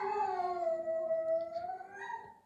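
A dog lets out one long, sustained howl that sinks slightly in pitch and rises again before fading, fairly faint and heard alone without talk.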